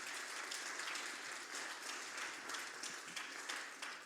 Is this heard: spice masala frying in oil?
no